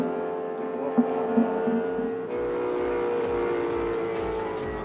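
A 1967 Chevelle SS engine idles with a loud, steady harmonic drone close by, a few brief blips early on, then a fuller, rougher rumble holding to the end.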